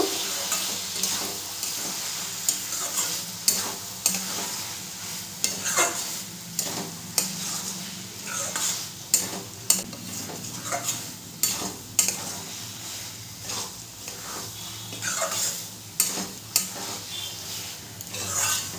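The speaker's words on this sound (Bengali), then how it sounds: "সেটা এরপরে দিয়ে দিলাম। দিয়ে খুব ভালো করে আমি মিশিয়ে নেব।" Ground rice paste being stirred into a Bengali banana flower curry (mochar ghonto) in a pan: repeated close scrapes and clinks of a spatula over a low, steady sizzle, with no talk.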